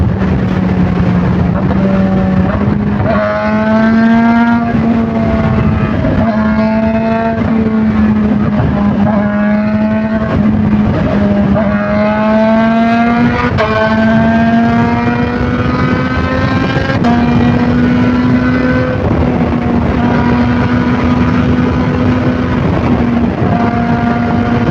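Kawasaki ZH2 supercharged motorcycle accelerating hard on the road, a loud close engine note climbing steadily through several gears with short dips at each shift, wind rush throughout.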